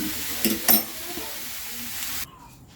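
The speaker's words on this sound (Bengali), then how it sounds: "শাক ভাজাটা আমার পুরো কমপ্লিট হয়ে গেল এইভাবে পুরো নাড়াতে নাড়াতে" Leafy greens (vuchrakatha shak) stir-fried in a pan give a steady close sizzle with a few louder scraping stirs, stopping abruptly near the end.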